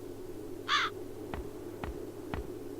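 Crows in the fantasy adventure game The Dark Eye: Chains of Satinav, with one short harsh caw early on over a low steady hum, followed by three evenly spaced dull knocks.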